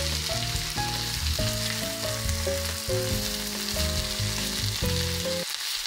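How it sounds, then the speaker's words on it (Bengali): Chopped onions fry and are stirred in hot oil for a chicken and potato curry, a steady close sizzle running throughout with no talk, under quiet background music, cutting off just before the end. "পেঁয়াজগুলো এখানে ভালো করে নেড়ে চেড়ে ভেজে নেব।"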